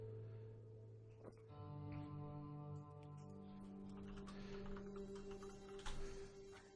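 Fast typing on a computer keyboard, a quiet flurry of light key clicks heard faintly beneath sustained tonal background music.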